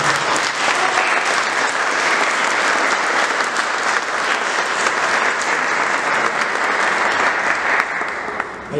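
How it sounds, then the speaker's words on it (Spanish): An audience in a concert hall bursts into loud, sustained applause for a guest, dense clapping that runs nearly nine seconds before thinning out at the very end. "Karina, a quien pido un fuerte aplauso."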